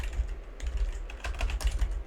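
Fast computer keyboard typing during a competitive Rivals of Aether match setup, a dense run of close clicking keystrokes over a low background rumble, with no talking.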